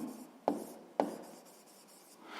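A pen writes a math solution by hand on paper, with two sharp taps followed by soft scratching strokes, close and quiet, with no voices.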